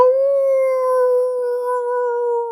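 A person imitates a dog's howl with one long, steady, clear tone held near the microphone, loud and alone, sliding slightly lower before cutting off.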